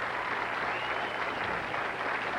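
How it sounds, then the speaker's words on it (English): Audience applause for a bowler at a professional bowling tournament, a steady patter of clapping from a crowd that holds evenly for a couple of seconds. "Nice round of applause for Mr. Webb."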